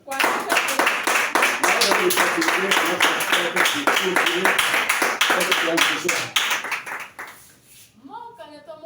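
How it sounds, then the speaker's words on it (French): Congregation at an evening church service in Lomé, Togo claps loudly and steadily for several seconds, the rhythmic applause tapering off before a voice begins speaking. "Applaudissez Christ."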